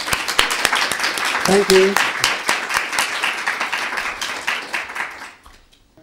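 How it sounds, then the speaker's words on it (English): Warm audience applause welcoming a guest lecturer at a museum talk, dense steady clapping filling the room for about five seconds before fading out, with a brief spoken thanks partway through. "if we could all give a great kind of warm kind of clap to David"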